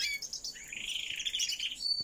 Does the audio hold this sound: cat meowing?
no